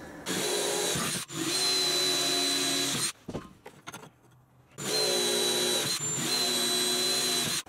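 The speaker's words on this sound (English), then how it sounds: "So I've got to get to doing some drilling" A power drill boring into metal runs in two long, loud, steady whines. Between them is a short pause with clatter and handling noise.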